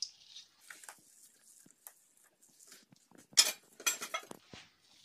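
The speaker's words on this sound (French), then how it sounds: "Alors on verse tout dans une poêle." Chestnut jam mixture is tipped into a frying pan, giving sparse light clinks and scrapes of utensil against metal that grow into a brief cluster of louder clatter near the end, with no talk.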